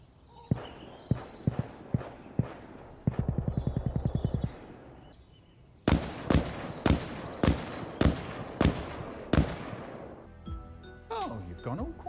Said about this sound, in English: Both guns were obviously still audible at 100 meters unsuppressed, but the SKS is clearly louder.